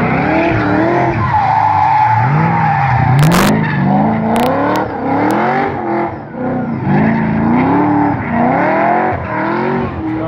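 Car tires squealing hard while drifting, a loud, sustained screech with wavering pitch over engine revs, lasting the whole stretch.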